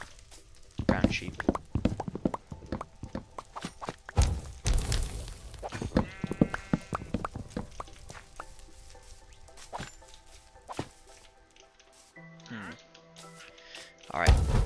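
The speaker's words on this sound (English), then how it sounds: "Brown sheep." Minecraft sheep bleating in a blocky survival game, short wavering bleats mixed with footsteps and block-breaking clatter while someone talks over much of it.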